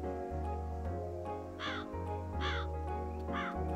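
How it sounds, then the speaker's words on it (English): A crow caws three times in the video game Calico, harsh repeated calls over a steady droning game music background. "There's another crow."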